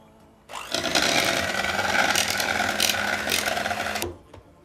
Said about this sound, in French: On va battre la crème fraîche avec un fouet électrique.